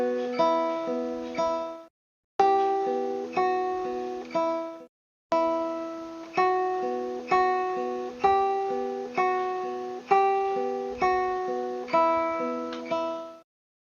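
Classical guitar plays an easy etude with a steady alternating right-hand pattern, clear plucked notes ringing in even groups, pausing briefly twice, close and alone with no talking.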